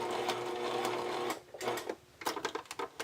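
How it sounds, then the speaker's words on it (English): A sewing machine zigzag-stitching around a scalloped lace edge for a lingerie overlay: a steady close motor whir that breaks off, followed by short uneven bursts of rapid needle clatter. "I've got my sewing machine on a zigzag stitch"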